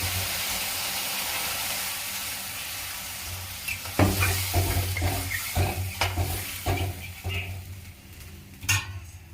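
Water pours onto fried spice paste with turmeric for a Bengali bata fish curry: a soft sizzle bursts into louder hissing and bubbling with stirring scrapes, then settles.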